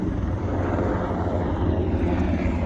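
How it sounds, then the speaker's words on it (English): Black Hawk helicopter flying near a mountain airport, a steady, loud low rumble of rotor and engine noise filling the whole stretch without pause. "it's a Black Hawk helicopter"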